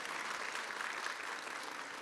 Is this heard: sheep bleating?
no